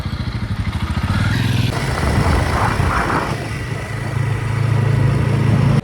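A motorcycle on a road trip ride toward Anantagiri Hills near Hyderabad, its engine a loud, close, steady throbbing rumble mixed with rushing wind noise, with no talk.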